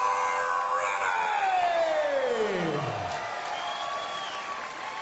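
An arena crowd at a Las Vegas MMA fight roars and cheers, with applause and whoops forming a loud, continuous wash that fades slightly toward the end.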